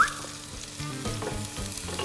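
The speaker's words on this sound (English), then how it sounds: "The onion goes in." Chopped onion hits about three tablespoons of extra virgin Greek olive oil in a pan for a tomato chicken stew, giving a soft close sizzle with stirring scrapes and no talking.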